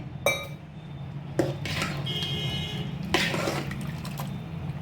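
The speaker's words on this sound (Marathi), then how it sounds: "ताक काढून झाल्यानंतर परत पाणी घालून" Homemade butter being washed in water in a pot after the buttermilk is drained, with a few sharp metallic clinks of utensil on pot over soft sloshing and dripping water, close and fairly quiet.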